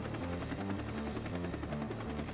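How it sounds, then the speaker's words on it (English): A helicopter swoops under a descending parafoil to catch it with a hook, its rotor blades thumping in a steady, rapid rhythm, faint and distant without speech. "Helicopter just comes under and swoops it with a freaking hook."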